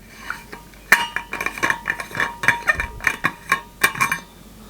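A Stanley Adventure 1-litre vacuum thermos lid being worked open, a run of light metallic clinks and clicks in quick irregular succession, close and crisp with no talking.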